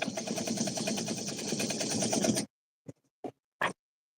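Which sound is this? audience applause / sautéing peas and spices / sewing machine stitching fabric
sewing machine stitching fabric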